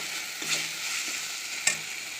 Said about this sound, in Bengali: আর এখানে কড়াই তেল দিয়ে গোটা জিরে তেজপাতা দিয়ে দিয়েছি।